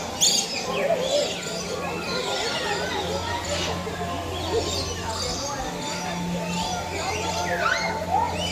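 A flock of parrots passes overhead outdoors, giving scattered chirps and squawks throughout against steady background noise, while someone talks over them.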